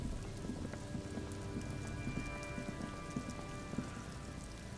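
Steady rain patters on reeds and the boathouses of a lakeside spot in a video game, a dense, even hiss with scattered sharper drops, fairly close and with no voices.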